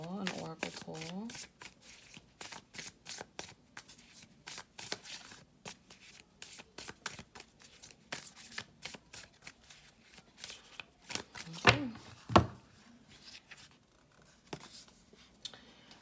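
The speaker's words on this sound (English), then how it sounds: "Let's go for a card, just a pull, an oracle pull." An oracle card deck is shuffled and a card pulled, giving soft riffling and rapid flicking of cards, close and fairly quiet, with a few sharper slaps and snaps partway through.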